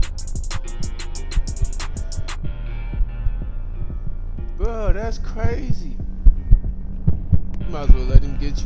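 A low, steady heartbeat throb pulses through a tense Roblox horror game, The Mimic, beneath a droning hum, with bursts of game music and a voice talking over it.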